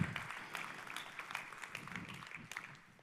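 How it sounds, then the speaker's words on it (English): An audience at a career talk gives a round of applause. It comes through as a faint, dense patter of many hands, steady throughout and tapering slightly at the end. "Give yourselves a round of applause."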